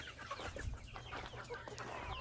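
Chickens clucking in expanded farm pens, a steady chorus of overlapping clucks and soft calls at moderate distance, continuous and fairly faint.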